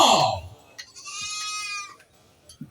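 An Etawa crossbreed (PE) goat at a livestock contest gives one drawn-out, wavering bleat that lasts about a second, close and fairly loud, following a short burst of other noise and crowd sounds.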